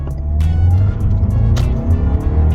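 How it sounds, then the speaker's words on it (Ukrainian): A 2020 Lexus NX 300 accelerates hard in sport mode, its engine pulling strongly up a slope into a bend with some wheel slip, loud and close for a few seconds. "Ми увімкнемо спорт режим і будемо рухатись отуди вгору і в поворотик."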